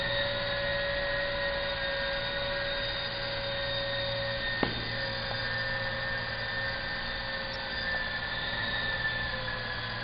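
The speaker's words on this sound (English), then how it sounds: "You can see the helicopter turning on the head while moving the joystick on this side." A radio-controlled model helicopter yaws in place on the ground during a flight instruction demo, giving a constant close motor whine and rotor hum for the whole stretch with one faint click midway.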